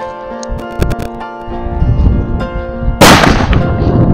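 Sharp cracks and a sudden heavy blast from an atom bomb firecracker, preceded by scattered pops and ringing tones, ending in a loud, broad roar of noise that lingers.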